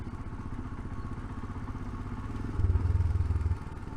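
Royal Enfield Himalayan motorcycle engine idling lumpy at low revs, a close, steady uneven chugging that swells briefly louder near the middle before settling back.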